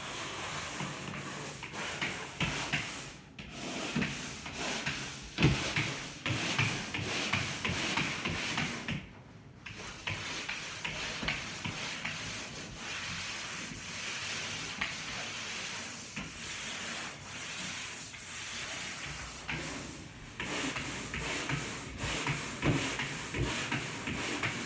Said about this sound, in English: You can turn your sanding pole whatever way you want. Just keep it on the wall.